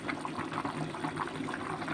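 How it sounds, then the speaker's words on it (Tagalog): A pot of sinigang soup with pork bubbles at a steady boil, a dense continuous burble of liquid heard up close with no one talking. "kumukulo na ang sinigang natin"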